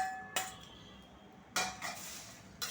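Fried corn chivda ingredients tipped into a large metal kadhai, giving three separate bursts of rattling, scraping clatter against the pan, with quiet gaps between.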